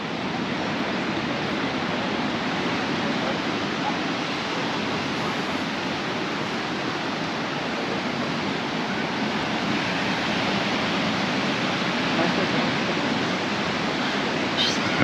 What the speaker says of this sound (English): And some big waves on this beach too